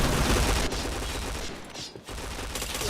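Rapid bursts of automatic gunfire from a first-person shooter video game, loud and dense throughout with only a brief dip near the end, no voices over it.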